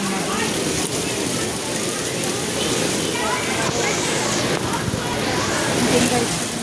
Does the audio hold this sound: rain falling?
yes